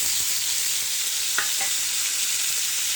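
Prawns sauté in a hot pan with a pinch of asafoetida for an ivy gourd prawn fry, giving a steady, close sizzle throughout with no talking.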